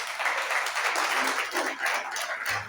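A church congregation applauds the Lord during a Friday service, a steady wash of many hands clapping at moderate, slightly distant level, continuous for the whole stretch.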